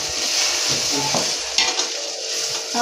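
Onions with ginger-garlic paste fry for biryani, a loud close sizzle with a few spatula scrapes and stirs against the pan over a short stretch.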